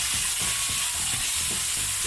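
Pork chops sizzle in a frying pan, with a dense, steady hiss and crackle throughout and faint scraping of stirring, loud and close.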